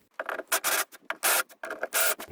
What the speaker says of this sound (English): we're going to use our countersink bit to kind of make it nice and flush